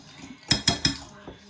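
A utensil stirs inside a pot in a home kitchen, giving three quick metallic scrapes and clinks close up, then a softer one after a short pause.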